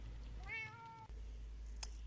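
A single clear cat meow from a video game, rising then falling for about half a second, heard alone over a steady low background hum with a faint click afterward.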